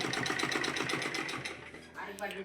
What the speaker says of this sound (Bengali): এই যে দেখো আমাদের মেশিনটা স্টার্ট হয়ে গেছে, এখন সেলাই স্টার্ট হয়ে গেছে